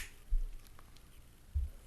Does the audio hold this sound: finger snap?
yes